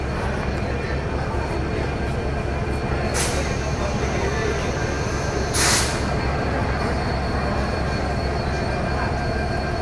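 A train's continuous heavy rumble fills Rajshahi railway station as crowds wait for the Dhumketu Express, with two sharp hissing bursts and a voice talking over it.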